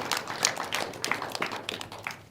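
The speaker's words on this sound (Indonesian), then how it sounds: "Boleh tepuk tangan?" Audience applause at a Banten provincial legislature session on a cultural advancement bylaw, a dense patter of many hands clapping at moderate distance, fairly even throughout the short burst without voices.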